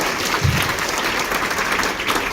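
An audience breaks into brief applause at a mentoring event, a short burst of many hands clapping together, moderately loud and close.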